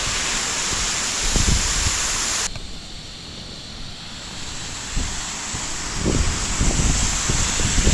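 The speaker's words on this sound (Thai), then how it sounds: "น้ำตกสวยงาม ธรรมชาติบ้านเฮา" A waterfall in a natural forest setting gives a steady, dense rush of falling water. The level drops slightly partway through, with low rumbling gusts buffeting the microphone, and no voices are heard.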